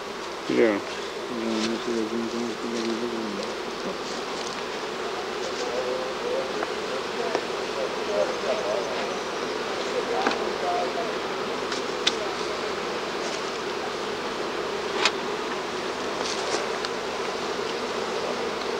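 A steady swarm of honey bees hums around galvanized beehives throughout, a dense continuous buzz with individual bees passing close now and then, and a brief voice near the start.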